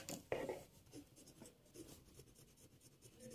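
A pen writes a math equation on paper, giving soft scratchy strokes with one louder tap near the start, then light intermittent scribbling close by, no talking.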